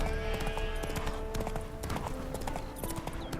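Horse hooves clip-clop steadily in The Witcher 3 as a mare trots along, the rhythmic hoof beats close and continuous under game ambience, with a whinny-like snort mixed in.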